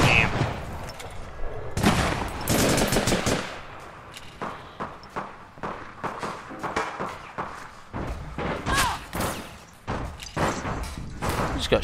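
Bursts of gunfire in the online shooter APB Reloaded, including shotgun blasts, ring out as sharp broadband cracks in irregular clusters, louder near the start and the end, with a faint voice underneath.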